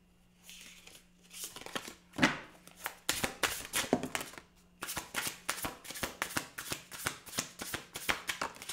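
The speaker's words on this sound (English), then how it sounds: "I got to reshuffle them too many cards." A deck of tarot cards being reshuffled by hand, close-up, with a fast run of crisp riffling flutters and slaps repeating in a steady rhythm, no talking.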